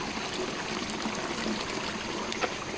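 Clear water flows through a channel in a rural rice terrace at Tegalalang, Bali. It makes a dense, steady rushing babble heard up close, with no talking.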